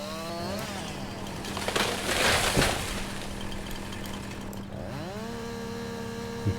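Chainsaw felling trees in a farming survival video game, a continuous buzzing saw with a surge of cutting noise in the middle, revving up and down, moderately loud with no talk over it.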